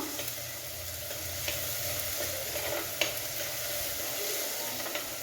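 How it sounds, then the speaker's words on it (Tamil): Tomatoes with salt sautéing in a pan as the base for a seer fish curry, a steady close sizzle with occasional stirring scrapes and clicks, no one speaking. "இப்போ இந்த தக்காளி நல்லா வசங்கட்டும் இப்போ தக்காளி வசங்கும் போது உப்பு நம்ம சேர்த்துக்கிடுவோம்"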